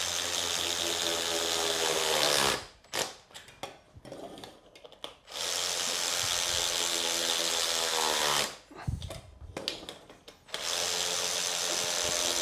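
A power tool runs down 10mm nuts on the segments of a Nuetech ProLock 360 tire lock, giving loud sustained whirring bursts broken by two short pauses filled with clicks and handling noises.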